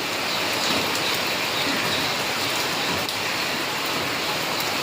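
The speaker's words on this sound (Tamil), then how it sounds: "நல்ல மழை பெஞ்சிட்ருக்கு" Steady, heavy rain pours down continuously, a dense hiss of drops on surfaces with no pauses and no voices.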